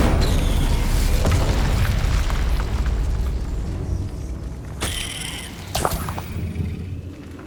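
A fiery Incendio spell blast from the video game Hogwarts Legacy: a loud, rumbling boom that swells and slowly fades, followed by a few sharper crackling bursts near the end.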